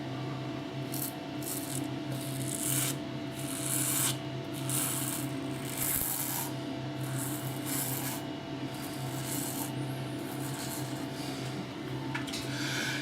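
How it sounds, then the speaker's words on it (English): Merkur Futur safety razor blade cutting through lathered stubble in close-up, a steady sequence of soft raspy scraping strokes, fairly quiet and repeated without talk. "You can hear the blade working away as we speak."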